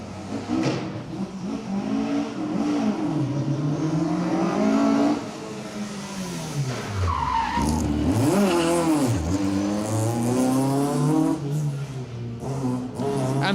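A Rally 4 Peugeot rally car drives hard on an asphalt stage of the Manx Rally, its engine revving up and dropping through gear changes as it passes close by, loud and continuous.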